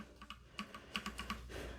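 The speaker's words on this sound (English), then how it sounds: "that is just the keycap bottoming out" Keycaps on a mechanical keyboard with linear switches bottoming out in a quick run of about a dozen soft, close clacks, faint and unaccompanied by speech.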